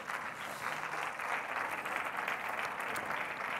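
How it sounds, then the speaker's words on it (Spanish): Audience applause for four speakers at a medical conference, steady dense clapping from a seated crowd, moderately distant and sustained throughout. "Un aplauso para los cuatro, por favor."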